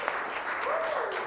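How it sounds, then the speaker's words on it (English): An audience at a business event breaks into a steady round of applause, a full continuous wash of clapping with a faint whistle-like tone rising through it. "Everyone give a round of applause"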